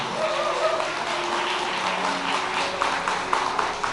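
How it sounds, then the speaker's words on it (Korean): Wedding guests at a convention hall applaud in a steady wash of clapping heard from some distance, with faint voices mixed in. "우리 두 주인공들에게 다시 한번 큰 박수 부탁드리겠습니다"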